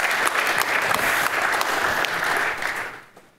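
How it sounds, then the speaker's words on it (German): Audience applause at a banking supervision symposium panel discussion, a dense sustained wash of clapping from a hall crowd that holds steady for about three seconds, then fades quickly to near silence. "Völlig bei Ihnen, der Applaus zu Recht."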